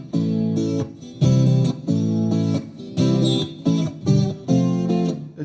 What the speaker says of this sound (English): I played it with normal chords, it would sound something like this.